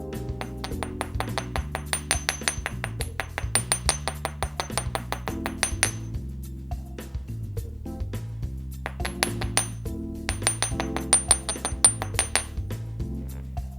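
Rapid, steady taps from the ball side of a hammer ring out on metal earring hoops, each strike leaving a bright clinking tone, continuing in quick bursts with short pauses.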